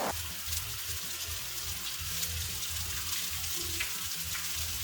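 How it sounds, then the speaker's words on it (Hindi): Chopped onions frying in oil and rendered fat with mutton liver in the pan, a steady close sizzle with crackling throughout and no talking. "इनको मैं अच्छे से फ्राई करूँगी"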